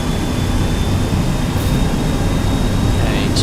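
Boeing 737-200 engines run at takeoff thrust in the X-Plane 12 flight simulator, giving a loud, steady, close roar with dense low rumble that does not let up.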